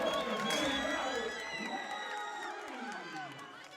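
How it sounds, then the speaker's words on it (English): Boxing arena crowd at an amateur junior open 60kg bout roars and whoops loudly, with shouting voices layered throughout and a gradual slight fade. "Crowd really coming alive for this fight here."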